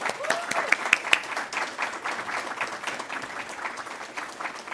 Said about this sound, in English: let's give another round of applause for the entire Reachability Association